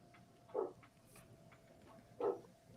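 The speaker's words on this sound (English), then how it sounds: "I hear my dog's barking." A dog barking in the distance, two muffled, faint barks spaced about a second and a half apart over a quiet background.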